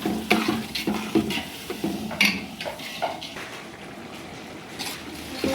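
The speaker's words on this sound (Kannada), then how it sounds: "ನೀರು ಹಾಕಿ ಕೈ ಆಡ್ತಾ ಇದ್ದಾರೆ" Potato curry is stirred by hand in a hotel kitchen after water is added, giving irregular scrapes, clatter and wet sloshing from the pot over a soft background hiss.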